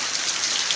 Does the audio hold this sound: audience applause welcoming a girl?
no